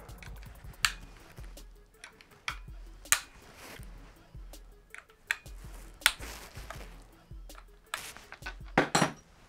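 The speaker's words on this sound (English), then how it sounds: "So now we'll just take the cam cover off" Aftermarket Allen screw bolts come off an Astra VXR cam cover in a series of sharp metallic clicks and clinks, spaced irregularly between quieter handling noises, close up.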